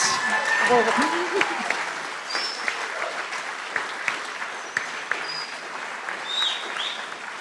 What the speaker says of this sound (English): We'll give them one last round of applause